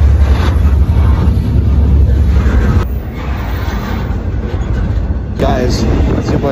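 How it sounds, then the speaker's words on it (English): A freight train speeding up on rails between Oakland and Roseville, heard from aboard: loud, steady low rumble and rattle filling the whole stretch, with a brief drop partway through. "The train just started speeding up a lot, if you can hear me."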